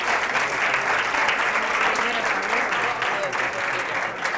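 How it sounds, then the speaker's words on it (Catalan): Applause from the studio audience on a Catalan TV quiz show, sustained and even clapping at a loud, steady level throughout with no letup. "Un aplaudiment per ells."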